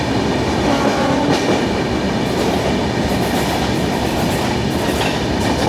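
The 12431 Rajdhani Express runs from Trivandrum toward H.Nizamuddin, heard from inside a First AC coach near Okhla as a loud, steady rolling roar with faint rhythmic wheel clatter and no voices.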